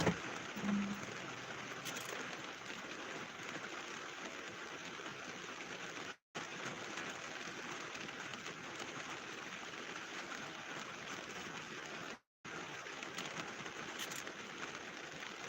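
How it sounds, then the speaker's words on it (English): A dense, steady wash of heavy rain from an early morning severe thunderstorm fills the whole stretch, close and constant, broken by two brief dropouts. "Heavy rain."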